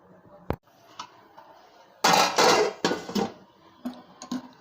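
A metal lid clatters onto a pot of red chicken curry on a gas stove, giving a cluster of loud clanks and rattles after a single sharp tap, then a few lighter knocks.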